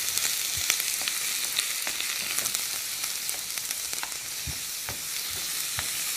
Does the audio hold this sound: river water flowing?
no